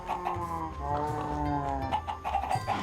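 Chickens clucking and squawking in a Minecraft farm pen, several short overlapping calls repeating steadily, close and fairly loud over low game background sound.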